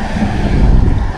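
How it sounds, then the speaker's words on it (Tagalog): Strong seaside wind buffets the microphone in a dense, roaring rumble along a rocky shoreline, loud and continuous with no voices. "Dahil malakas po ang hangin"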